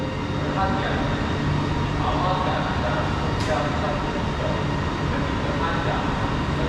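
A driverless LRT train pulling into Putra Heights station in Malaysia, a steady rumbling rail roar filling the platform with a brief high squeal partway through.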